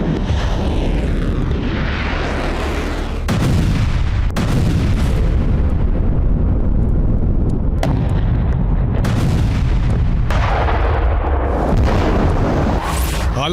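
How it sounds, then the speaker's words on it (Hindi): A nuclear-capable missile launch amid Russia–US tensions: a loud, sustained roar with deep booming and crackling bursts throughout, punctuated by sharp blasts and cut-like transitions, steady and close with no talking. "उसके बाद काउंटडाउन शुरू होता है और मिसाइल लॉन्च।"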